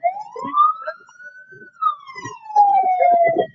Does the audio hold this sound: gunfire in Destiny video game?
no